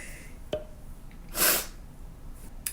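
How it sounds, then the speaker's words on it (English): A single sharp sneeze bursts out mid-clip, close and loud, preceded by a brief sniff and followed by quiet breathing. "I need to sneeze"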